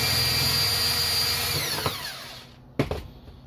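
Power tool whirring on a Honda Accord four-speed transmission teardown, running steadily and then winding down with a falling pitch, followed by a couple of sharp metallic knocks and clanks close by.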